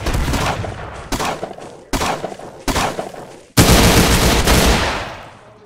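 Gunfire in the Roblox game Arsenal: four loud, close bursts of rapid shots separated by short gaps, then a longer sustained burst that fades away.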